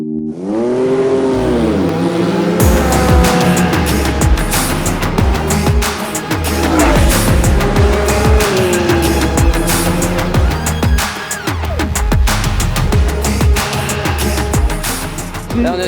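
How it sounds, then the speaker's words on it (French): Ferrari cars, including an F8 Spider, driving on a road trip, with loud engine revving and acceleration heard over music that plays throughout. "J'ai passé le volant à Maëva, on est parti, on suit les Ferrari"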